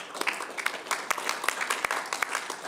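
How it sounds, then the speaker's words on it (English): People at a city council meeting give a round of applause, a close, lively patter of many hands with a few loud individual claps popping out above the rest. "Let's give them a round of applause for that."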